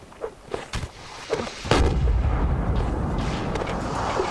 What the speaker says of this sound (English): And Harleaf obviously just waiting for the opportunity to reload the cannon as a nice shot takes out Charles Mackenzie.